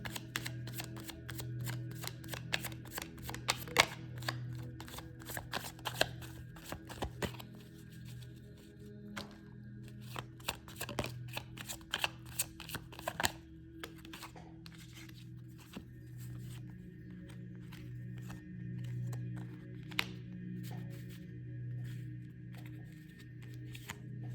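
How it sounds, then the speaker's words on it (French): A deck of cards is shuffled and drawn close up, with dense, rapid riffling clicks early on that thin into scattered card snaps and soft slides. "Avec ce jeu, on va prendre 9 cartes."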